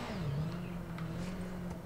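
A car engine in Watch Dogs 2 revs with nitrous engaged, a steady droning whine that dips then holds, moderately loud with faint background whir and no talk.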